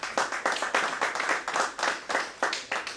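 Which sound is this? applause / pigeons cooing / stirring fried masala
applause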